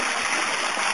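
Water gushing hard out of a 2-inch aquaponics auto siphon standpipe under a 3-inch bell, a loud, steady, close rushing flow with no pauses.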